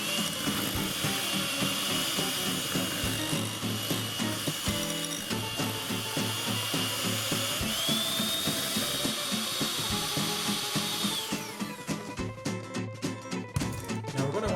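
Electric mixer beating banana nut bread batter made with cannabutter, a loud continuous whirring, rattling grind close by that holds steady, then turns choppier and pulses toward the end.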